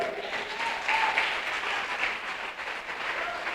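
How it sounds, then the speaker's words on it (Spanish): Congregation claps during a church sermon, a continuous wash of applause at moderate level with no voices standing out. "Si vas a aplaudir, aplaude."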